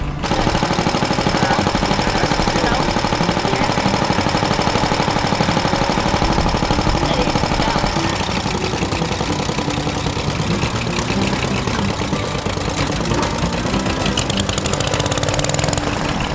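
A Wheel Horse lawn tractor under restoration starts up and settles into a loud, close, steady idle, its small engine chugging and rattling continuously throughout with no voices over it.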